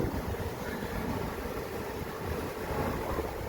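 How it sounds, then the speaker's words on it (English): Steady wind blowing outdoors near a beehive late in the day, a continuous broadband rush with low gusty rumble buffeting the microphone throughout, fairly loud and unbroken. "the wind's picking up"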